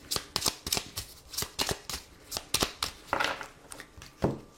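A Lenormand card deck is shuffled and cut by hand in a series of crisp riffling bursts, a dozen or so quick flutters close up and clear, with no talking.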